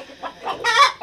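A broody hen sitting on her eggs clucks close by in a short burst of rising, throaty clucks, with a brief pause before a final cluck.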